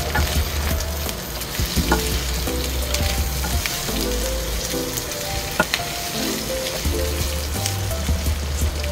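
Pork ribs frying in a pan, a steady close sizzle with spoon scrapes and clacks from stirring throughout, loud and continuous without talk.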